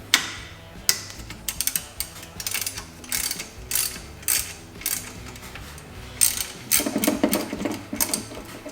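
Ratchet wrench clicking in short bursts, close by, as it loosens the lower AC belt bolt on a 2004 Subaru Forester XT during timing belt work, with brief pauses between pulls and some metallic handling.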